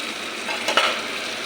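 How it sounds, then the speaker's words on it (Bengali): Soft steady sizzling of fish frying in a pan, with a brief scrape of stirring near the middle; quiet and close, no talking. "ঢাকনাটা দিয়ে দেবো মাছটা একটু ভাজা হয়ে যাক"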